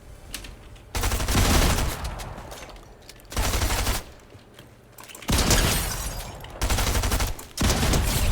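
Bursts of rapid gunfire in Fortnite, several loud volleys of automatic shots separated by brief quieter gaps with distant shots.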